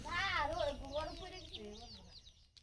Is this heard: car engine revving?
no